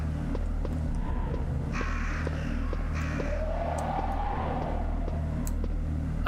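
Crows caw in a Resident Evil (Biohazard) game scene: a few harsh calls stand out over a constant low droning ambience.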